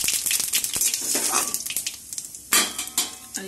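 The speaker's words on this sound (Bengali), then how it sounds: "তো এখানে তেল গরম হয়ে গেছে, দিয়ে দেবো তেজপাতা, একটু গোটা জিরে" Bay leaf and whole cumin hit hot oil with crackling, spitting sizzles, close and lively, mixed with light clinks of a utensil against the pan.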